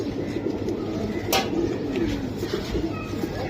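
Pairs of Bezi-line pigeons kept for sale coo close by in a low, continuous burble, with brief background clatter.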